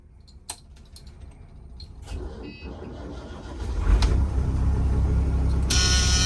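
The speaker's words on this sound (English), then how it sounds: "so we got both engines started" Twin diesel engines on a trawler yacht crank and start, building from faint clicks into a steady, loud low rumble that holds to the end.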